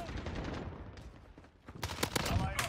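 Gunfire in the video game Modern Warfare, including a light machine gun, with a dull, muffled stretch giving way to a sharp burst of rapid shots near the end, with a voice speaking over it.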